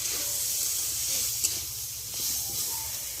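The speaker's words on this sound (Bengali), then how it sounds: "বন্ধুরা, ভেজে নিই সয়াবিনটা।" Soybean chunks fry in oil in a wok with a soft, steady hiss and faint sizzle, fairly quiet throughout with a small clink partway.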